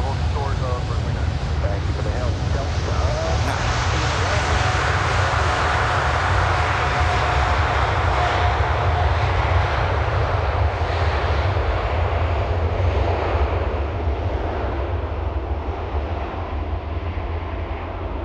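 A heavy jet airliner takes off from runway 9R at Miami International Airport, its engines producing a loud, continuous roar that holds steady across the whole stretch and fades slightly toward the end.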